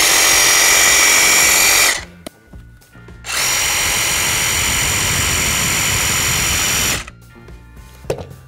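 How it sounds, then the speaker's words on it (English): A DeWalt cordless reciprocating saw cuts through a holiday turkey in two loud, sustained motor bursts: a short one, then a brief pause, then a longer run before it stops. "if you really wanna make quick work of your holiday turkey carving, of course, you use the DeWalt cordless recip"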